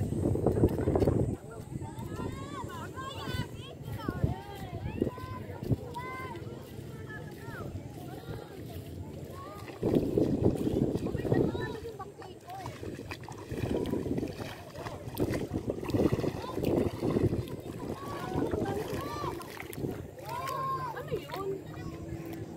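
Small wooden bangka boat being rowed out over shallow water toward low tide, with irregular splashes and paddle knocks, wind buffeting the microphone, and people talking throughout.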